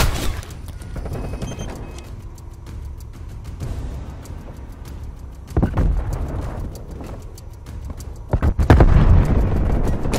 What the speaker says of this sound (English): Sending flashbang.